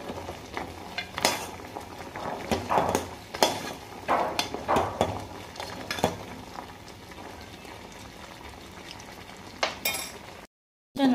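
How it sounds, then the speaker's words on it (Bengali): Sugar-coated khurma (shakkarpare) stirred through thickening syrup in a pan off the heat, with repeated scraping and clattering strokes of a spatula against metal and a light sticky sizzle, ending in a brief silence. "এবার এগুলোকে ভালো করে নাড়াচাড়া করব। নাড়াচাড়া করে সিরাপটাকে আরও ড্রাই করে নিতে হবে।"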